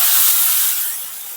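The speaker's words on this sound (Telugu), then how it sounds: "ఇలా పప్పులో తాలింపు వేసుకున్నప్పుడు ఇలా సౌండ్ వస్తే ఆ పోపు ఫ్లేవర్ అనేది పప్పుకు పడుతుంది" Hot tempering poured into a pot of dal gives a loud, bright sizzling hiss that bursts up at once and slowly fades over about a second and a half, with no voices.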